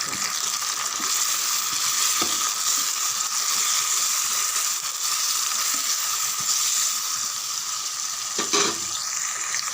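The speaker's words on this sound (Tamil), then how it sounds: "தக்காளி நல்லா வதங்கட்டும்" Chopped ripe tomatoes sizzle and fry steadily in a hot pan for tomato rice, a continuous close hiss with faint stirring scrapes and no voices.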